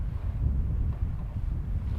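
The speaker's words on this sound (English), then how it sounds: "it's a wee bit windy for filming" Steady low wind buffeting the microphone, a constant rumbling roar with no voices.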